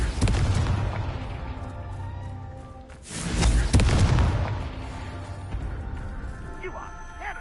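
A Confringo fire spell blasts off in the Hogwarts game, a loud booming burst that swells and rolls away over background game sound, with a voice talking at points.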